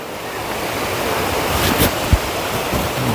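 Steady rushing water roars at Khlong Lan waterfall in a national park in Kamphaeng Phet, a continuous broadband wash with some wind buffeting and one brief thump near the end.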